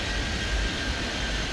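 An aircraft taking off in the airport game Airport Madness 3D, a steady loud roaring engine rush throughout.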